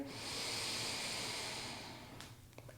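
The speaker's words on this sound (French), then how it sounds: "Encore une fois, on inspire." A long, steady breath hiss during a yoga session, fairly close and quiet, tapering off toward the end with a couple of faint clicks and no talking.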